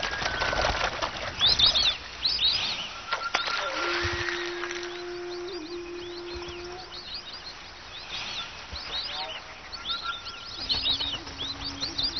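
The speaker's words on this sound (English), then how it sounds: "the Madagascar fish eagle" Heavy wingbeats of a Madagascar fish eagle, the island's largest bird of prey with a wingspan over six feet, come as a few soft whooshing flaps amid steady chirps and calls of other birds in the background.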